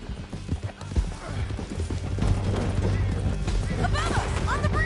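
Horses gallop in a video game, rapid clip-clop hoofbeats with an occasional whinny, loud and close, mixed with game effects and some background noise.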